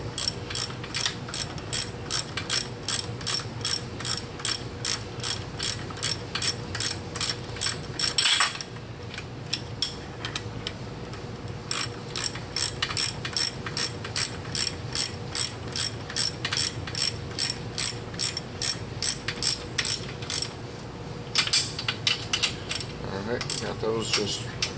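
A torque wrench ratchets steadily while snugging cylinder head bolts on a 2007 Mini Cooper S R56, a long run of rapid, close metallic clicks with one brief pause partway through.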